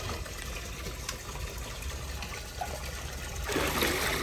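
Water trickles and splashes steadily in a quiet, hissing stream into a concrete pond, growing a little louder and fuller near the end.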